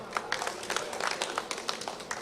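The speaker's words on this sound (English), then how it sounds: "I invite you to keep clapping" An audience claps at a Movement for Social Justice special congress session, with loose, uneven hand claps pattering at a moderate distance.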